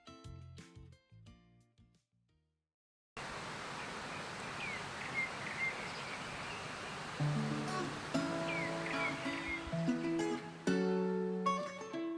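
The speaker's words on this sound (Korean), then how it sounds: "귓가를 스치는 파도 소리" Ocean waves wash along a coastal walking path on an island in a sea dotted with many small islands, a steady broadband surf after a quiet opening, with sustained musical tones layered over it later.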